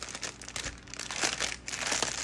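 A paper legend sheet for diamond art is handled close by, crinkling and rustling in several quick bursts with no talk.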